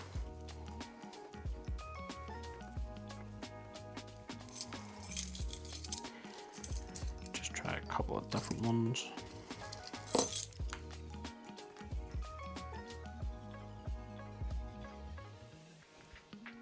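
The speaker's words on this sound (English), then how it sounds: "We'll just grab our keys, we'll do a scratch test." Metal keys scraping and clinking against a Z Fold 7 screen protector during a scratch test, a quiet run of irregular clicks and rattles with brief louder taps, under a few spoken words.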